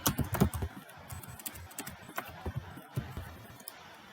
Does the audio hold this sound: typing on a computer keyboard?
yes